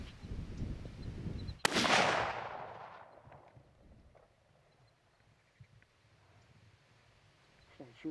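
A single sharp gunshot cracks out nearby during a youth hunt in Kansas, its blast trailing off into a few seconds of fading echo after quiet murmured talk.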